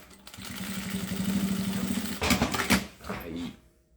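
Sewing machine stitching fast over a zipper on a cube-shaped pouch, a rapid steady mechanical chatter for about two seconds, then a few short bursts as it backstitches, followed by quiet handling noises.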